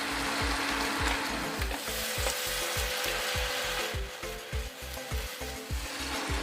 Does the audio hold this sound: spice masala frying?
yes